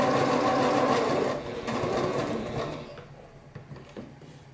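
A sewing machine runs through the seam of a lined lunch bag, a rapid mechanical whir for about two seconds that slows and trails off into a few separate clicks.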